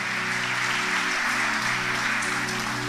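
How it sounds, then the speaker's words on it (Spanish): A church congregation gives sustained applause, a dense, even wash of many hands clapping throughout, with a low steady hum of music or organ tones underneath. "Dale un aplauso al Señor y ponte de pie"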